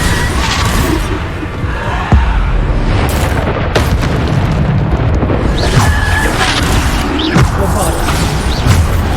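Repeated Bombarda spell explosions in the Hogwarts Legacy video game, loud booming blasts and crashing bursts that come one after another over a dense, continuous roar of combat effects, with a voice calling out spells.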